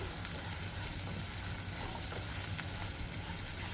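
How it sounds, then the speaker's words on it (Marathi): Spices for a breakfast churma mix sizzle in a hot pan, a soft, steady crackling fry with faint scraping as they are stirred, continuous and fairly quiet. "आपले मसाले छान आपण मिक्स करून घेऊया"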